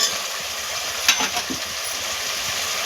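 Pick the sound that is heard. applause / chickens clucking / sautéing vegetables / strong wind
sautéing vegetables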